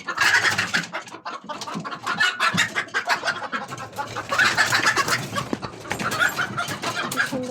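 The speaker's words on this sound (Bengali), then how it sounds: "এখানে মুরগি পালা হয়" Chickens kept in a rooftop coop cluck and squawk in busy, overlapping bursts, close and fairly loud, with a few sharper calls rising above the chatter and no talking.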